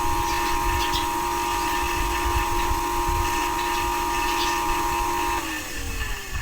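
A repaired twin jet water pump motor hums steadily with a constant electric whine, close and even, then begins to wind down near the end.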